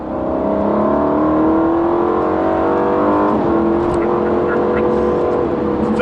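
Aston Martin Vantage engine in Manic Mode, a loud, steady rising engine note with layered harmonics climbing as it revs, dipping briefly midway before building again, close and continuous throughout.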